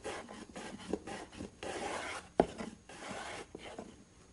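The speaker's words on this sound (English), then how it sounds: "Then I'll give it a little bit of sanding," Rhythmic rasping strokes of sandpaper on the rounded-over edge of a wooden cherry serving tray, close and moderately quiet, with a brief sharper knock partway through and no talking.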